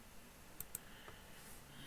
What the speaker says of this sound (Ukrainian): я маю двічі клацнути і потраплю